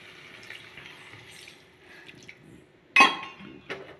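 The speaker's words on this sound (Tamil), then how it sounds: "நான் இப்போ அதில் வந்து கொஞ்சமாக தண்ணி சேர்த்துக்கிட்டுதாங்க." Water poured from a glass into brinjal thokku simmering in a pan: a short splashing pour with a clink near the three-second mark, close and moderately loud over quiet kitchen background.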